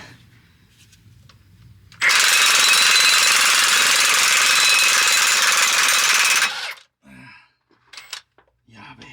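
An impact wrench on the yoke nut of a truck, one loud continuous rattling burst lasting about four seconds, very close, with faint talk and clatter before and after.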